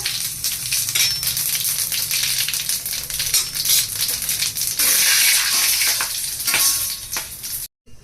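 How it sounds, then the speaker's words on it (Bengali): Whole cumin seeds and whole garam masala crackle and sizzle in hot oil left from frying winter vegetables for khichuri. The spitting is steady and close, with brief stirring scrapes and no talk. "সবজি ভাজা তেলের মধ্যে ফোড়ন দিয়ে দিচ্ছি"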